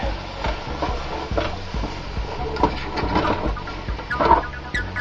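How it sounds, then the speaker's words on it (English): A utensil stirs and breaks up sausage meat seasoned with Italian seasoning in a pan for spaghetti sauce, giving repeated scraping knocks at a steady rhythm over a soft sizzle, close and moderately loud, with no talk. "And just stir this all up and continue breaking up the meat."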